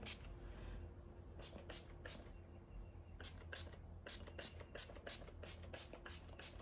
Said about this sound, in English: I'm gonna put a little spray